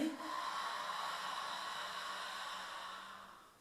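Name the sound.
exhaling breath during yoga sun salutation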